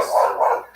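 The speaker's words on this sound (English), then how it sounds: "If your dog will bark like that when it's not in its own yard" A dog barks twice in quick succession, close and loud, with nothing else around it.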